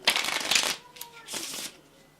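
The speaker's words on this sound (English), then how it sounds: "And then shuffle the cards." Playing cards are riffled together in a quick fluttering burst, followed by a second shorter riffle, close by.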